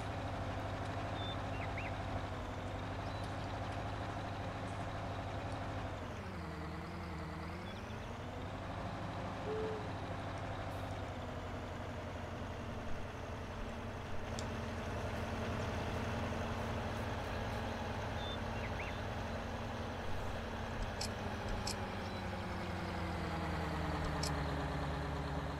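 A skidder engine in Farming Simulator 19 idles and drives in a steady, loud drone, with a brief dip in pitch partway through and occasional faint clicks.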